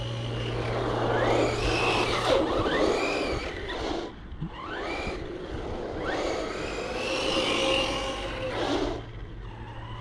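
A Hobbytech BXR MT electric RC monster truck on a 3S battery running steadily, its high whining motor rising and falling through repeated bursts of acceleration, close and fairly loud, with a low steady hum underneath.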